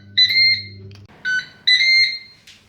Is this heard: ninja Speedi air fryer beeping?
yes